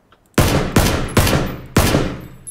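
Four loud, close gunshots from a PUBG match fire at roughly even intervals, each a sharp broadband crack that decays quickly before the next shot.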